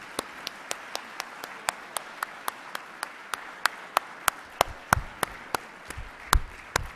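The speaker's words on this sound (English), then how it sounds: "please join me in thanking our panelists with another round of applause for a terrific" Sharp, evenly spaced claps from a few audience members at a geography association plenary session, thanking panelists. The claps are fairly faint at first and grow slightly louder and more irregular toward the end, with no talk over them.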